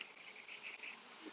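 Honey bees buzz in a steady, close hum during an inspection of a swarm hive, continuous wings droning with no voices.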